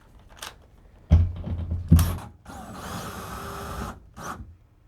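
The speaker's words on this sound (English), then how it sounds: "Swing this back over, put a screw through here, and drive it in." A power screwdriver drives a screw through a closet shelving standard into a plastic wall anchor, sharp clunks of positioning followed by a steady whirring buzz of about a second and a half, close and fairly loud.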